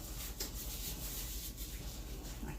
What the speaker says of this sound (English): I'm going to rub that in a little bit.